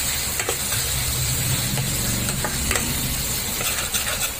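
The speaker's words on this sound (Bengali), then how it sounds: "দিয়ে এই মশলাটা আমি এবার কিন্তু এটাকে খুব ভালো করে ভাজবো।" A ground spice paste of raisins, melon seeds and poppy seeds fries in a pan, producing a steady close sizzle broken by repeated scraping strokes of a spoon stirring the mixture.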